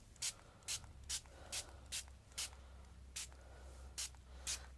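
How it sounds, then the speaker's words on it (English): A spray bottle squirts water in about ten short, sharp hisses at a steady, regular pace, close and fairly quiet. "I get my spray bottle, have the direction of the spray going in the right direction this time"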